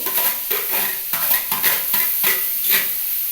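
Beetroot with salt and sugar cooking in a wok, a steady sizzle broken by rhythmic scraping stirs about every half second, close and alone.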